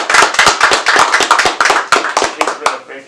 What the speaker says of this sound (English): just give her some applause